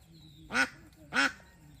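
Two loud, close duck quacks, evenly spaced and alone against quiet pond ambience, from ducks on a village pond with a crocodile nearby.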